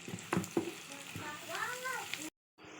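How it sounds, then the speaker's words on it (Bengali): Spice masala with turmeric and onion fries and is stirred in a pan for a traditional eel-fish bhuna, giving a steady sizzle with scraping strokes while a person speaks over it. "মশলাটা ভালো করে মিশিয়ে নেব।"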